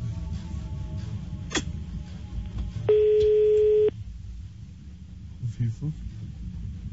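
A telephone line tone sounds for about a second as a call is placed, a steady beep heard amid background room noise and chatter.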